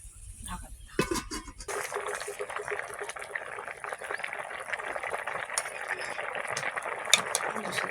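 Bananas boiling in water in a covered pot: a sharp clink, then a steady, hissing bubble and simmer that carries on with small ticks and clatters, while a voice murmurs faintly.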